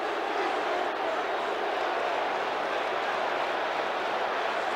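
A large NFL stadium crowd roars at a 1991 Dallas Cowboys at Detroit Lions game, protesting a missed pass interference call with a continuous, even wash of distant voices and no distinct breaks.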